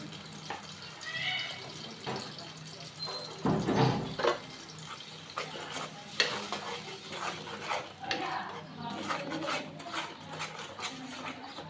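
Onion and spices frying in hot oil, stirred with a spatula in frequent irregular scrapes and knocks against the pan over a constant sizzle, close up with no voices.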